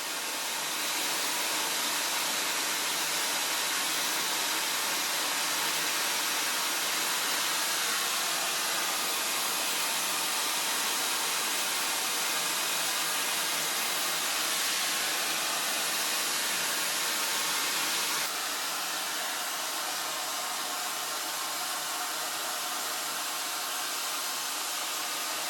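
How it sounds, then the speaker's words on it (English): A hair dryer fitted with a diffuser blows steadily on warm while drying hair, a loud continuous airy roar that keeps going without a break and shifts slightly in tone partway through. "Come blow dry this with the diffuser."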